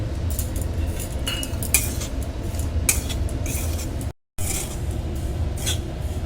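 Semolina (suji) is dry-roasted in a kadai with no oil or ghee, a metal spoon clinking and scraping against the pan in an irregular, steady stirring rhythm, with a brief dropout partway through.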